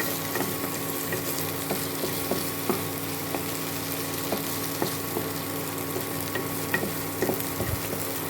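Stirring prawn head curry in a pan, a spoon scraping and turning the mixture in steady, irregular strokes over a constant soft sizzle of frying, close and clear with no talking.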